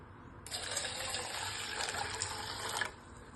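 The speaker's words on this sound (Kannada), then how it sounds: "ನೀರು ಹಾಕ್ಕೊಳ್ಳೋಣ" Water pours onto washed urad dal in a vessel to soak it, a steady close splashing rush lasting about two seconds and then stopping abruptly.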